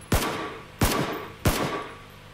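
Gunfire in the video game PUBG on Xbox One: three loud, sharp shots spaced evenly about two-thirds of a second apart, each with a short echoing tail.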